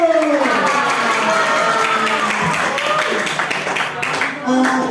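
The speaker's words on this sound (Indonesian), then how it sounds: "Beri tepuk tangan Unibo." Audience applause at a university student orientation event in Bondowoso, a dense, loud wash of clapping with voices calling and talking over it throughout.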